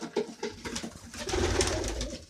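Soft, repeated cooing comes from pigeons close by at their nest, a few rounded coos in a loose rhythm against faint background noise.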